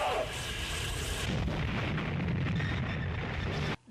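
Explosion from the 1988 horror comedy Killer Klowns from Outer Space, a loud sustained roar with a heavy low rumble lasting several seconds before cutting off abruptly.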